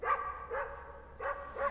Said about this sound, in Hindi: बुलडॉग है।